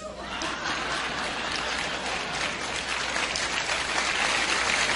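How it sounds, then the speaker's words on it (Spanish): Audience applause for newcomers at a gathering, a thick wash of clapping that builds slightly louder toward the end, with faint chuckles and laughter mixed into the crowd. "Y por último le vamos a dar un aplauso a los nuevones."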